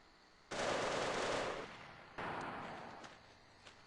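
Bursts of automatic gunfire in the America's Army video game, two sustained volleys of rapid shots followed by a few scattered single cracks, loud and close with no talking.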